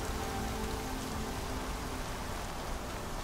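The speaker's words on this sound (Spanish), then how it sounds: "Está haciendo buena tormenta." A heavy rainstorm in the video game Horizon Zero Dawn makes a dense, steady roar of rain on surfaces, loud and constant throughout with no voices.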